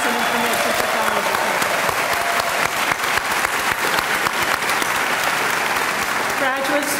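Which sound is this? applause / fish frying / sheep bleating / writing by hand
applause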